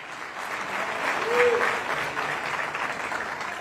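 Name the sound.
applause in church service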